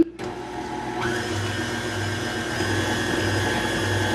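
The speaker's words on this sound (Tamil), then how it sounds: "இதையும் பீட் பண்ணி விட போகிறேன்" An electric hand mixer beats butter cake batter for a Sri Lankan butter cake, a steady close motor whine with a low rhythmic churning pulse that continues throughout, without speech.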